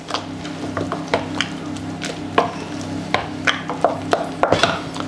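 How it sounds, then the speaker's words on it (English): Risotto with black pepper and salt stirred in a pan, a close, irregular run of spoon taps and scrapes against the pan over a soft wet squish and faint sizzle, with a steady low hum beneath. "Give it a good stir."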